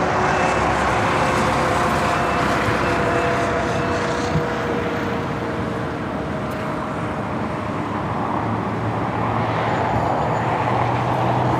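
A Condor airliner flies over at LAX, a steady broad engine roar that holds loud through the whole stretch, with background traffic rumble mixed in.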